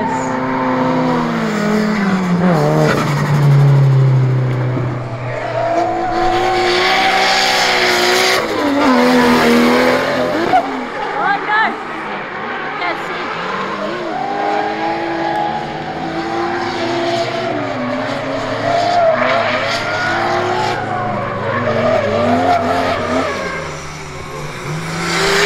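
A car engine revs hard and roars continuously while tires squeal and skid through long slides, loud and close for the whole stretch.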